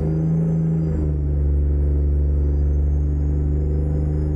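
A Kenworth W900 heavy-haul truck with a Detroit Diesel 60 engine pulls uphill under heavy throttle in a truck simulator, a deep steady diesel rumble with a low droning tone, loud and unbroken.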